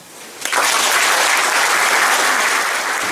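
A crowd at a village brass band's twentieth anniversary celebration in Gołkowice breaks into applause, a sudden loud burst of dense clapping that starts after a brief quiet moment and holds steady.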